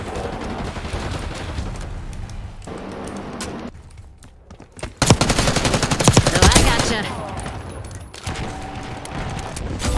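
Gunfire in the Black Ops 6 shooter video game, rapid bursts of shots with a loud cluster of blasts in the middle, over a noisy game soundscape.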